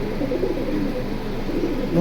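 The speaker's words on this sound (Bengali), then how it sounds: "এই যে দেখেন কবুতর দেখেন, আমি দূর থেকে দেখাই" Domestic pigeons from a pet collection coo in low, soft murmurs, a continuous burbling close at hand with faint background sounds.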